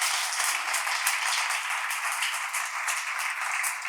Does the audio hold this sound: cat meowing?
no